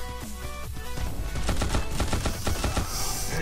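Rapid bursts of gunfire from the Cyclops weapon in the shooter game Guns of Boom, a fast rattling string of closely spaced shots over game background noise.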